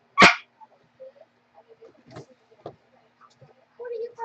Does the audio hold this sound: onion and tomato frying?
no